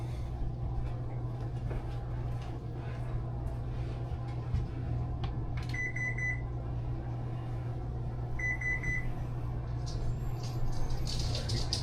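A kitchen oven gives two short, sharp electronic beeps a few seconds apart as it is set to preheat, heard over a low steady hum and faint background voices.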